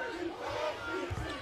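A basketball arena crowd roars and cheers continuously, a dense, distant-sounding wall of voices rising and falling slightly with no commentary over it.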